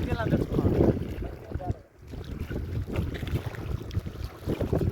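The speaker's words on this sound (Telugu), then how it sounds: "చిన్న పడవలో మేము అవతలకి వెళ్ళాలి" A small boat crosses a crocodile-inhabited river near the Kolluru diamond caves in Andhra Pradesh, its watery motion blended with blustery wind buffeting the microphone while people talk nearby.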